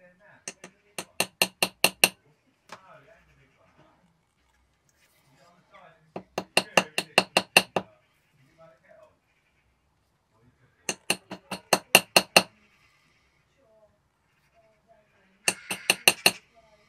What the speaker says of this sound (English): The balance staff is riveted onto the balance wheel with a domed punch.